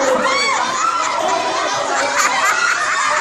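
A crowd of children shouts and cheers together at a first birthday party, loud, high-pitched overlapping voices sustained throughout.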